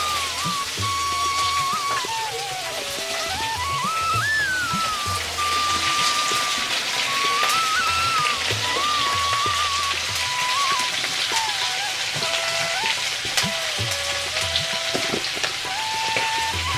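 Cauliflower, potato, peas and chopped onion spattering and crackling in hot oil in a home kitchen pan, a steady dense hiss and pop throughout, with a faint tonal whine running over it and no talk.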